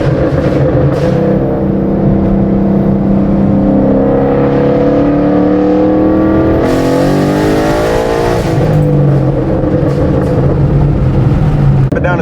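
A loud 2014 Mustang engine revs hard and climbs in pitch, shifts, then pulls up through the revs again from second gear, close and continuous.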